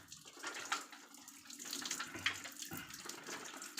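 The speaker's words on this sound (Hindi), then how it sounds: "ये देखिए पानी आ गया। पहले की मुकाबले पानी ज़्यादा स्पीड से आ रहा है।" Water runs from a freshly serviced RO water purifier, a soft, steady splashing flow heard up close at low volume, with faint background noise and no talk over it.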